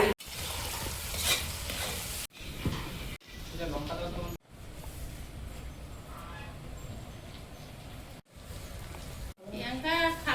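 Thinly sliced small potatoes fry crisp in a pan, with a steady sizzle broken by brief pauses and stirring scrapes, while a person talks over the cooking.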